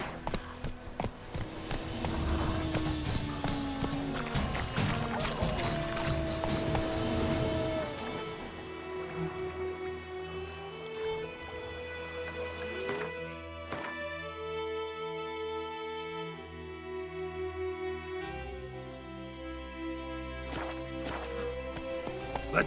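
Roach, Geralt's horse in The Witcher 3: Wild Hunt, gallops with rhythmic hoofbeats at first, and the hooves soon fade under swelling orchestral music that takes over the rest of the clip.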